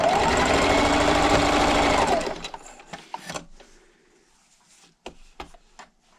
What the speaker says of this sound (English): And I'm going to backstitch at the end.